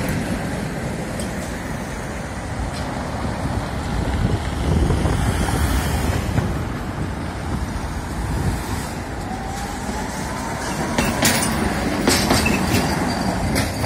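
Rumbling street traffic in Lviv with the heavy roll of trams passing, and brief metallic squeals from wheels, sustained and fairly close, with no talking.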